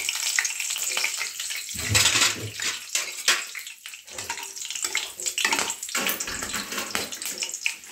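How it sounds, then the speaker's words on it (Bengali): Whole garam masala spices fry in mildly heated oil, giving a steady dense crackling sizzle throughout, with occasional stirring and low clatter from the pan close by. "এই হোল গরম মশলাটা আমি এই হালকা গরম হওয়া তেলের মধ্যে এখন দিয়ে দিচ্ছি।"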